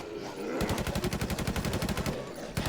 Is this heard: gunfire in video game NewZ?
yes